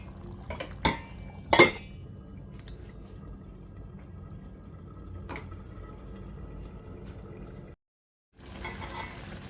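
A lid goes onto a pot of egg curry cooking on the stove, making two sharp metallic clinks close together near the start, followed by quiet kitchen background.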